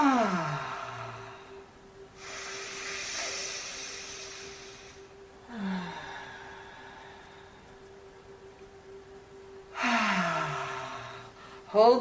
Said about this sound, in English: Hold the breath in, feeling the chest swell and the lungs swell.